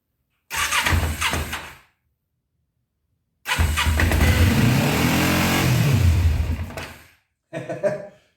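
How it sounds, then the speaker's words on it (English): A $60 used motorcycle engine cold-starting on full choke: a short cranking burst, a pause, then the engine catches and revs loudly for several seconds before dying, followed by another brief crank, close and with no talk. "this is a cold start, guys"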